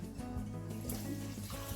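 Water pouring into a pot of fried rice and carrots, a short, close trickling and gurgling of liquid filling the pan over a low background hum.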